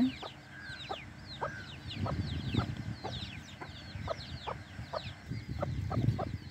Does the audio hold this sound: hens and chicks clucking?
yes